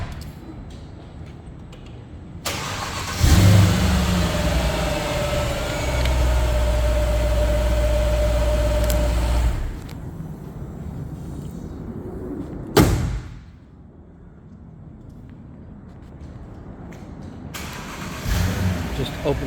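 A 2011 Mercedes SL550 V8 cranks and fires up with a loud burst, settles into a steady close idle, then a thump follows and the engine sound drops away to quieter background, with a voice talking at times.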